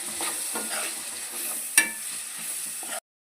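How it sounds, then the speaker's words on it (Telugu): Mushrooms with turmeric fry in a pan with a bright, continuous sizzle and brief scraping strokes, one sharp clack midway, then the sound cuts off abruptly. "ఇందులోకి పుట్టగొడుగులు వేసుకోవాలి. దీన్ని బాగా వేయించుకోవాలి"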